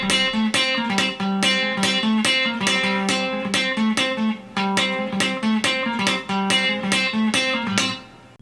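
Country guitar train beat lick played up to speed, a brisk driving pattern of muted bass-string chugs and bright plucked chord accents repeating evenly for several bars, close and loud with no voices.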